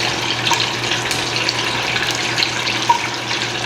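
Water running steadily from a kitchen tap, filled for making Jello, a continuous broad rush with a faint splash near the end, close and alone.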